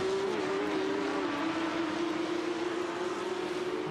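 Porsche Cup race cars in a racing video game on the Nürburgring, heading into the Tiergarten section, a sustained engine drone with a held, slowly shifting pitch, fairly loud and without talk.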